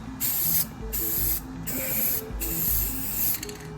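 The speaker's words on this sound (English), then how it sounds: "do not overspray. You can always put on light layers." Spray paint hissing from an aerosol can onto a Freddy Fazbear costume head, applied in several short bursts with brief gaps between them, loud and close with no voices.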